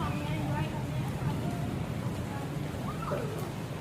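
Steady rain falls outdoors in a broad, constant hiss, with faint voices and scattered background sounds mixed in beneath it.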